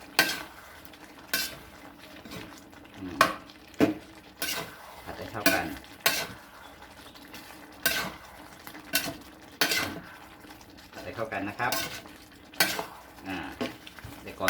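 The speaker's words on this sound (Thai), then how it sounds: "ทีนี้ก็ผัดให้เข้ากัน ผัดให้เข้ากันนะครับ" Pork, red curry paste and long beans stir-fried in a pan, with a spatula scraping and clanking against the pan in steady repeated strokes over a soft background sizzle, close by and without speech.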